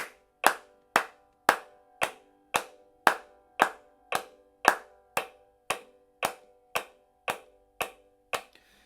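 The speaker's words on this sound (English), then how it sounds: "I'm just going to clap just to demonstrate this." Single hand claps at an even, steady beat, about seventeen sharp close claps in a row with short ringing decays and silence between them, used as a timing demonstration for banjo practice.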